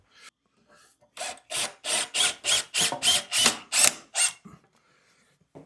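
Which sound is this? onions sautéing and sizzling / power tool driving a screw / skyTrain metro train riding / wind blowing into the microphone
power tool driving a screw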